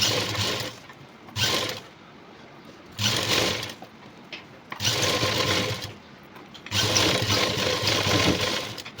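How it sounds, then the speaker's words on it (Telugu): A sewing machine runs long stitches on a work jacket in four close, loud bursts of rapid whirring, separated by short pauses, with no talking. "నేను ఇప్పుడు లాంగ్ కుట్టు పెట్టి మొత్తం అంతా వర్క్ మీద కూడా కుట్టు అయితే వేసేసిన"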